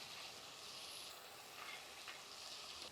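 Soaked chana dal (split chickpeas) sizzles in a hot pan for a ridge gourd curry, a steady, bright frying hiss with slight stirring swells, close and continuous.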